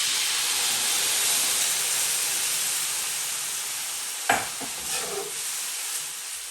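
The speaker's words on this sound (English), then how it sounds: "And at this time, I'm gonna add in my whole milk." Whole milk poured into a hot pot of parched vermicelli and a cinnamon stick, a broad steaming hiss that slowly fades, then a sharp clack and a few soft stirring knocks.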